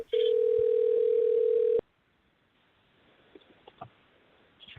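A telephone call's ringback tone sounds in one long, steady pulsing beep. The line then goes quiet apart from faint clicks and rustles.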